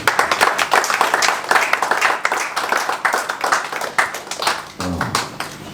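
A church congregation applauding during a Sunday sermon, many hands clapping loudly and closely in a dense, uneven burst that thins slightly toward the end, where a brief voice is heard.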